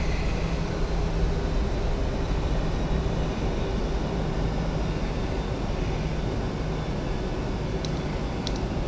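Broadband roar of a PMDG 737NGX's thrust reversers on landing in a flight simulator, a steady loud rushing wash that holds at full strength throughout, with a few faint clicks near the end.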